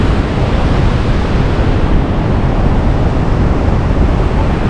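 Waterfalls in Baños, Ecuador, heard from a suspension bridge: a steady, dense roar of falling water, loud and continuous throughout with no voices.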